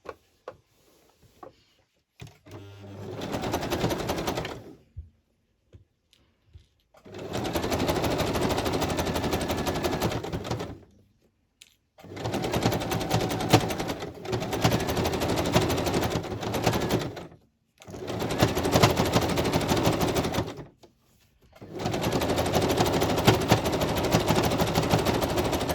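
A sewing machine stitches a fabric journal page in repeated bursts of rapid mechanical rattling, five runs of several seconds each separated by short pauses, close and steady.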